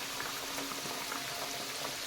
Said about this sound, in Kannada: ಅದು ಎಣ್ಣೆಯಲ್ಲಿ ಫ್ರೈ ಆಗುವಾಗ ನಿಧಾನಕ್ಕೆ ಬಿಡಲಿಕ್ಕೆ ಸ್ಟಾರ್ಟ್ ಆಗುತ್ತೆ ಚೆನ್ನಾಗಿ